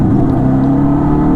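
A Yamaha RD 350 HT motorcycle engine while riding on countryside roads, a loud, steady, close droning hum with no breaks and no talking.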